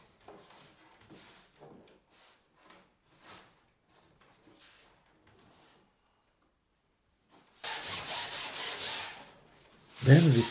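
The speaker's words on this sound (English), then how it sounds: "Then we sand the workpiece, all the workpiece, with sandpaper." Sandpaper rubbing a plywood boat workpiece in short, soft rhythmic strokes with pauses, then a louder, faster burst of close sanding.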